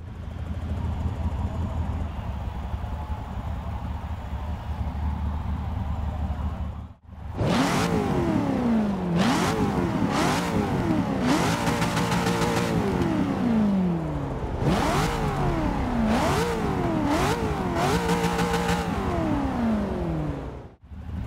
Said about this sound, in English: Definitely love the noise that this V8 actually makes